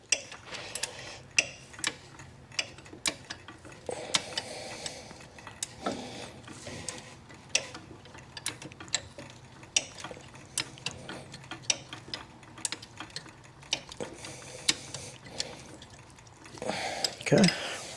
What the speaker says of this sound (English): a ratchet wrench is definitely helpful here